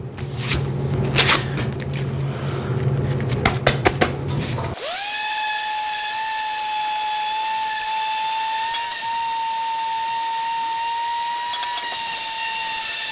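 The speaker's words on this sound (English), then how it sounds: "I hit it all with 80 grit, and this is just a regular orbital." A Harbor Freight orbital sander with 80 grit sandpaper on a stainless steel grease tray: scraping clatter at first, then a loud, steady high-pitched whine that holds close for several seconds.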